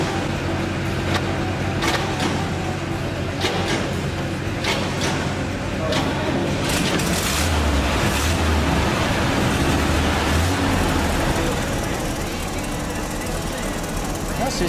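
Small 1959 BMW Isetta engine running after thirty years idle, a loud, steady rough idle with sharp intermittent clanks and knocks early on, close by and continuous throughout.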